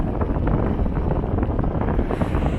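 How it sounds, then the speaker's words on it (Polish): Heavy wind buffeting the microphone, a constant low rumbling roar with gusty fluctuations and no voices. "Wiatr jakoś kręci."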